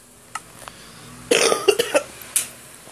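Coughing from a person with a cold: a short isolated cough, then a burst of several harsh, close coughs in quick succession, followed by one more single cough.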